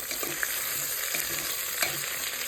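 Potatoes frying in a pan in meat fat give a continuous soft sizzle, with occasional stirring scrapes, heard close and fairly quiet with no talk.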